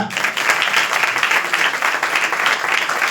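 A church congregation clapping in praise, a loud, continuous mass of hand claps close by with a few voices faintly mixed in.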